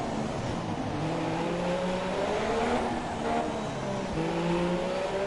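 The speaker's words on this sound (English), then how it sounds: "Come on, Sauber car," Sauber Formula 1 car engine in the racing game F1 2017 at the Monaco Grand Prix, a continuous close high-pitched whine with rising and shifting gear tones, other car engines blending in, no talk.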